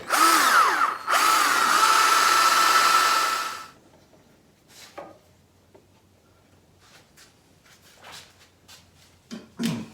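A power drill with a 3/16 bit bores into wood on a demilune table. Its high whine rises as it spins up and runs for a few seconds, then stops, followed by quiet handling clicks and taps.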